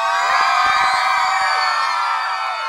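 A party crowd cheers and whoops loudly and continuously in a large hall, many voices blending into a steady roar that eases slightly at the end.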